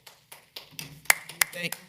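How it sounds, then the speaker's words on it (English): A few scattered claps ring out at a library district advisory board meeting, several sharp separate hand claps under quiet talk that end within two seconds. "Thank you, but please don't applaud."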